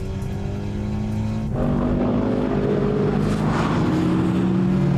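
A car drives on a racing circuit during a racing driver's test, its engine droning loud and steady and then rising in pitch as it accelerates through the gears, close to the microphone with no talking.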